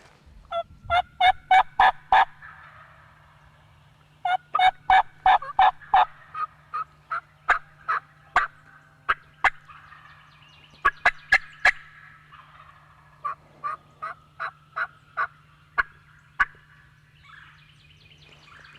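Several wild Osceola turkeys gobble repeatedly in the distance on public land, rapid rattling bursts in clusters separated by pauses, with no voices.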